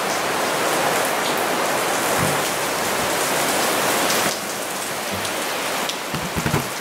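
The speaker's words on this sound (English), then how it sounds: "let me show you this rainstorm real quick" Heavy rainstorm pours down steadily as a dense, constant hiss of rain on surfaces, loud and close, easing slightly partway through with a few soft low thumps near the end.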